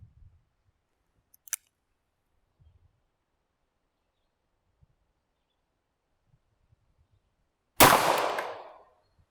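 A Smith & Wesson 27-9 .357 Magnum revolver fires a single loud, sharp shot into ballistic gel, followed by a decaying echo. Before it there is a long near-silent wait with only a faint click.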